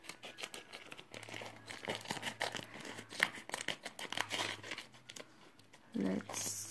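Scissors snip through the plastic packet of a Nature Republic peeling foot mask, a close run of crinkling cuts and rustles, with a sharper crunch near the end.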